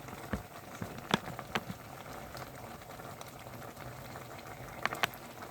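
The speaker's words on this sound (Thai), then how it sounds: "ผมปิดเตาแล้วค่ะยังเดือดอยู่ดิค่ะ" A pot of bamboo shoot curry with pork bones keeps bubbling after the stove is switched off, a steady low simmer with scattered soft pops and clicks, close and fairly quiet.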